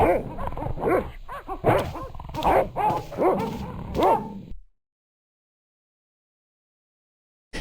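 Dogs bark repeatedly in the Broken Sword video game, a run of close, loud yelping barks and whimpers over about four seconds, then abrupt silence.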